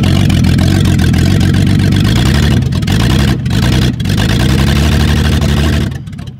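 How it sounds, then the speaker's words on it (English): An old car engine, started after sitting six years on stale gasoline, runs loud and close with a steady low throbbing drone, a few brief dips in level, then trails off at the end. "it's been sitting for 6 years and it starts up and it runs"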